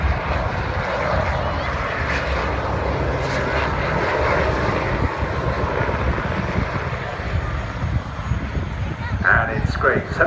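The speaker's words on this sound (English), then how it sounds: "Please welcome the Seaking Mark 5 from 771 Squadron." A Royal Navy Sea King Mark 5 search and rescue helicopter of 771 Squadron gives a loud, continuous engine and rotor roar at an air display, with a voice talking over it.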